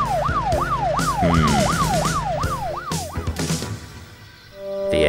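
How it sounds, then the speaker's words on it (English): A police engine in a Roblox Thomas and Friends game sounds a rapid wailing siren that sweeps up and down in quick repeated cycles over a rumbling engine, then stops, followed by a short musical tone. "He called for Bobby, the police engine"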